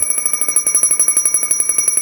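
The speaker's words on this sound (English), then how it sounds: "Once the low air alarm activates, that signifies your bottle's at 1/3 filled" An MSA G1 SCBA low air alarm sounding as a rapid, steady train of shrill electronic pulses, about a dozen beats per second, loud and close with no voices.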